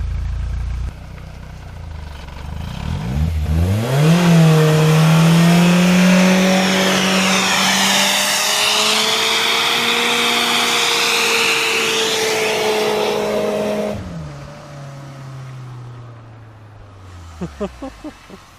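A BMW E36 car revving hard while doing a burnout, its engine climbing to a loud, sustained high-rev wail with spinning wheels for about ten seconds before dropping back, heard up close.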